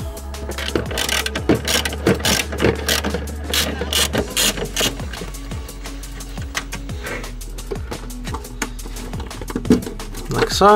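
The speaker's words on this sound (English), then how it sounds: "undo the 2 bolts, and the tail light will just sort of pop out" A ratchet undoing the tail light bolts on a Mazda MX5, close rapid clicking in repeated runs with a steady hum beneath, and a few brief words spoken near the end.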